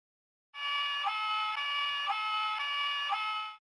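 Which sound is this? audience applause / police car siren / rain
police car siren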